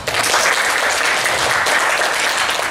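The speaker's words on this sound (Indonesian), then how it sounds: "tepuk tangan dong." Loud, sustained applause from the audience at a women's self-defense training event for female employees, a dense steady wash of clapping running the full length without pause.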